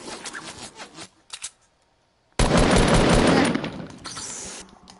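Rapid video game gunfire aimed at the player during a one-chest challenge: short broken bursts, then a loud sustained barrage that tapers off, with no talk over it.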